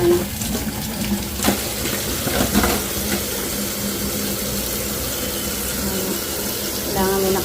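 A tap runs steadily as collected items are washed beneath it, a continuous close splashing hiss with a few louder knocks and clatters of handling.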